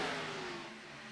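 Race cars lapping the Richmond oval in a racing video game, one engine droning steadily at mid pitch and fading slightly over a brief moment, with no talk over it.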